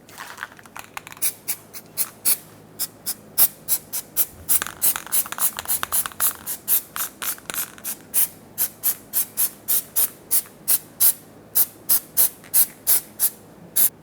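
Anti-seize being applied to the front brake hub surface of a 2000-2005 Ford Excursion: a rapid, regular series of short hissing strokes, dozens in a row, close and fairly loud with no talk.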